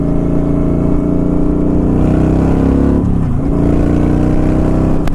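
A Kawasaki Vulcan 900 cruiser motorcycle engine under way on the road, a loud continuous close rumble that holds steady, dips briefly partway through, then resumes pulling.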